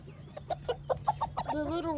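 Backyard chickens, a little rooster and hen, cluck in a quick run of short bursts while tearing at hash browns, then a longer drawn-out call rises at the end, close by over a low steady hum.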